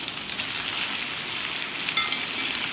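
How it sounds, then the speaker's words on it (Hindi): Chicken or goat liver (kaleji) frying in hot oil on a tawa, dhaba style, with a steady dense sizzle throughout and a faint stir or spatter near the end. "और इस कलेजी को फ्राई करेंगे इस ऑयल के अंदर अच्छे तरीके से"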